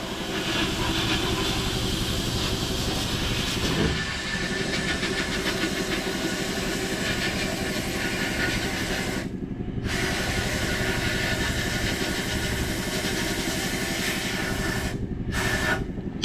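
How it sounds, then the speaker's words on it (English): A large 120-gallon air compressor runs alongside sandblasting at about 100 psi, a loud continuous mechanical drone and hiss with a dense rumbling texture, briefly interrupted by short gaps in the high hiss. "This is a, I think, 120 gallon compressor. It's pretty large, but it's working."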